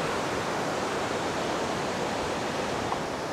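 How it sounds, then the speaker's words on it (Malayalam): Heavy water pours from the Silver Cascade waterfall in Kodaikanal, producing a constant, loud rushing hiss with no breaks and no voices over it. "ഇത് കണ്ടോ എത്രത്തോളം വെള്ളമാണ് ഒഴുകി വരുന്നതെന്ന് കണ്ടോ."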